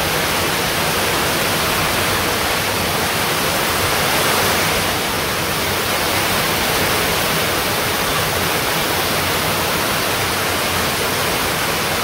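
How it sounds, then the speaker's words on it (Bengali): Sudden heavy rain at a village home, a dense, steady hiss that fills the whole clip, loud and unbroken, with gusty wind and no voices. "তো হঠাৎ করে কিন্তু এত দূরে বৃষ্টি আসলো"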